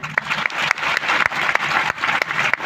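A large audience claps loudly and steadily at a Marathi stage program, dense continuous applause with scattered sharper individual claps cutting through, filling the whole moment without any speech on top.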